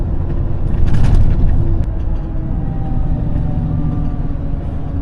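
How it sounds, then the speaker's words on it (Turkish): A loaded Renault T High 520 semi truck on the road with its retarder engaged, giving a loud, steady, deep rumble that swells slightly early on and then holds an even drone. "Bu arabanın da eğer duyduysanız röterdar sesini çok seviyorum ya."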